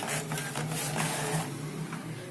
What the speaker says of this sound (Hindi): ये देखिए प्रिंट आने लग गया फर्स्ट क्लास